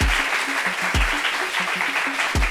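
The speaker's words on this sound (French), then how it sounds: "On applaudit pour lui pendant qu'il arrive, s'il vous plaît" An audience applauds a guest arriving at a gathering, brisk close clapping that runs without a break through the short moment.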